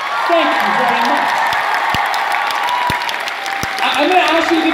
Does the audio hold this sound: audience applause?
yes